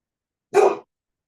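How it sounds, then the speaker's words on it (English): A single dog bark, loud and fairly close, heard from another room indoors, short and sharp with no other sound around it. "I hear my dog."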